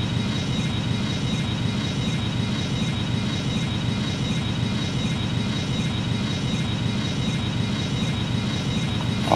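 A large, costly Airbus aircraft in flight gives a steady, loud broadband engine roar with a faint high whine, continuous and unchanging without any voices.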